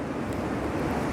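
Ocean waves wash at a beach beside a cliff in a constant broad rushing roar, mixed with wind buffeting the microphone, with no one speaking.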